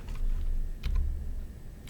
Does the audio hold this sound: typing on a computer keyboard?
yes